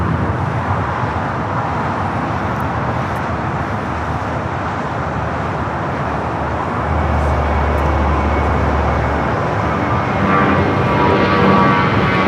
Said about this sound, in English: Airlines 319 taking off to Puerto Vallarta on the A320.